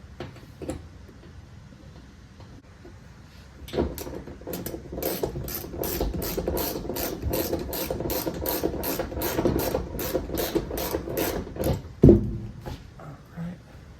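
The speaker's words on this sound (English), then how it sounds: "Put it into place, get your hand started, and then run it down with your ratchet and pull the cover over." A hand ratchet runs down a seatbelt bolt in a 1968 Firebird, with a steady close clicking run of rapid ticks that ends in a sharp knock.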